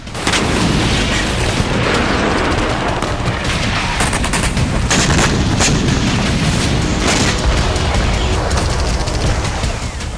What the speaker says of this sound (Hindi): आईडीएफ के दावों के अनुसार उसने पिछले 24 घंटों में गाजा पट्टी में 40 ठिकानों पर बमबारी की